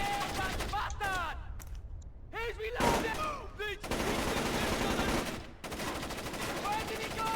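Video-game gunfire in Splinter Cell: Chaos Theory rattles in rapid bursts, with loud sustained volleys between short pauses and shouting voices over the shots.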